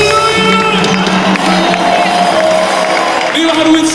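A packed crowd at Amahoro stadium in Rwanda during a rainy gospel concert, cheering loudly with ululation and applause over continuous music and sung voices, a dense, steady roar throughout.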